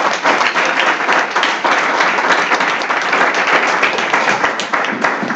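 A church congregation claps loudly and continuously, a dense, unbroken roar of many hands that holds steady throughout.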